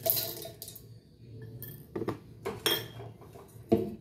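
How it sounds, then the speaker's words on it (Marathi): Roasted chickpeas tumble into a mixer grinder jar, scattered clinks and rattling hits of hard grains on metal in short uneven bursts, close and fairly loud with no talking. "चला, आता इथं मी मिक्सरचे एक भांडं घेतले. त्यामध्ये मी सर्वप्रथम हे फुटाणे टाकणार आहे."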